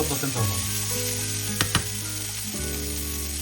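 Cherry tomatoes in a hot frying pan sizzle loudly as 18% cream is poured over them, a continuous close crackling hiss with a couple of brief stirring clatters and no talk.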